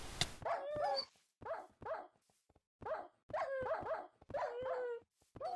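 Dogs from the video game Minecraft bark in a series of short, sharp yips and barks, some in quick clusters, with brief gaps between bursts; no talking.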